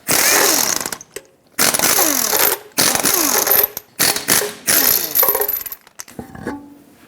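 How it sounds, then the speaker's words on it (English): Lug nuts come off a Toyota 4Runner wheel under a 21mm socket on a power tool, loud whirring bursts repeated about six times with short pauses and small clinks between them. "Use a 21mm socket, remove all 6 of your lug nuts, and then take the wheel off."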